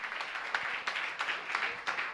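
An audience at a religious gathering claps together in honour of a guest, a brief patter of applause with several sharper peaks over a couple of seconds.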